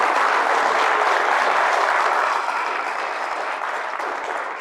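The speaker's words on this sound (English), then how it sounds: "I'd give him a nice round of applause" A seminar audience breaks into loud, sustained applause that fills the room with dense clapping and fades slightly toward the end, with no talk over it.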